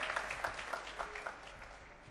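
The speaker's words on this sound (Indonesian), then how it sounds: "Beri tepuk tangan yang meriah untuk teman-teman kita di sini." Brief, fairly faint applause from an audience at a school quiz competition as team members head to the podium, a light scattering of claps that fades out quickly.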